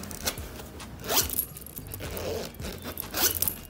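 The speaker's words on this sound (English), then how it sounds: "we have this little zipper over here" A zipper on a shopping bag is pulled in several short, raspy strokes close to the microphone, each quick scrape followed by quieter handling and rubbing of the fabric.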